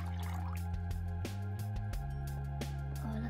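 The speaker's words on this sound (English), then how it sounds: "let's see what happens when we pour the water" Water poured over Skittles candy, a steady close trickle and pour with small drips, continuous and fairly loud.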